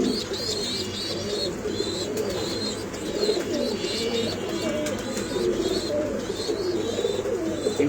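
Pigeons at a farm in Mirpur 13, Dhaka, coo repeatedly in soft, rolling calls over a low steady background, several birds overlapping at close range.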